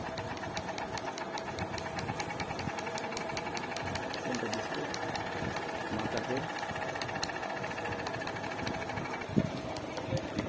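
Treadmill motor running after repair of a cut IGBT fault, a steady close mechanical hum and rattle with a brief knock near the end.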